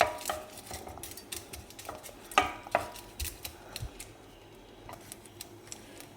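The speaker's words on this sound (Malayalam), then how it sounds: "ഇടയ്ക്ക് നമുക്ക് നന്നായിട്ടൊന്ന് ഇളക്കി കൊടുക്കണം" Semiya (vermicelli) being stirred in a pan, a series of light metallic clinks and scrapes of a utensil against the pan at irregular intervals, close and fairly faint, with no talk.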